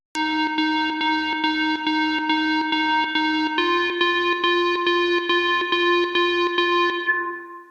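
Analog fizz lead synth from Logic's stock sounds plays a bright, buzzy repeated pattern of short pulsed notes, stepping up to a second pitch midway, steady and loud with a brief fade at the end.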